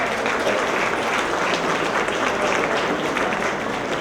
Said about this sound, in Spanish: Despidamos con un fuerte aplauso a los integrantes del Presidium.